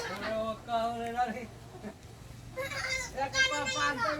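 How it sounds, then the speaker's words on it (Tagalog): Children playing and shouting outdoors, their high voices overlapping in bursts that come through from beyond the room, fairly close and steady with a short lull in the middle. "Maingay sa labas mga bata guys, pasensya na."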